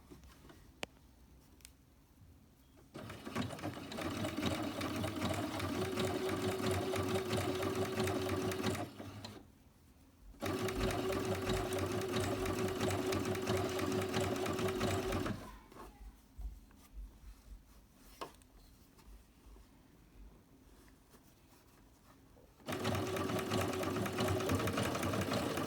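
A sewing machine runs in long steady bursts as it stitches quilt template pieces, a fast close mechanical whir that stops and restarts several times with quiet gaps between runs.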